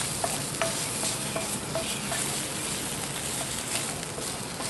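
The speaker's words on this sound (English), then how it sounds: "start first with the bacon in our pan, so that I can get just a little bit of bacon fat down there on the bottom" Bacon sizzling in a pan on the stove, a steady close hiss and crackle with light spattering pops and a few stirring clicks, continuous and unaccompanied by speech.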